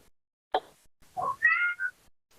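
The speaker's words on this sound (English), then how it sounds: "Who's meowing?" A cat gives a few soft meows in a quiet room, one brief chirp followed by a longer two-part meow, faint and close.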